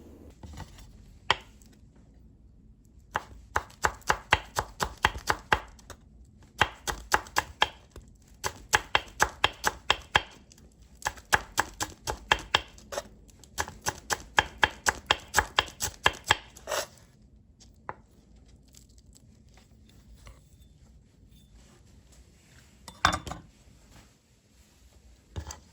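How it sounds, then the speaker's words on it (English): A cheap $1 knife reshaped into a Santoku style chops green onions on a board with rapid, crisp, close knocks in quick bursts and short pauses between, then a few scattered taps near the end, with no talking. "I think it's time to cut some green onions"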